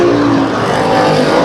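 Race cars roar steadily around the dirt track at Kern County Raceway Park during a heat race, a loud continuous engine drone with a passing whine, no voices over it.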